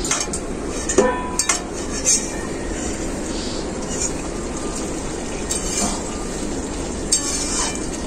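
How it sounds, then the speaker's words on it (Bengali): A cooking pot lid being lifted off mixed winter vegetables and greens boiling inside, a few metallic clinks and clatters over a constant bubbling hiss. "ঢাকাটা খুলে দেখে নেব"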